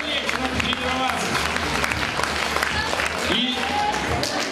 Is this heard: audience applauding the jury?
yes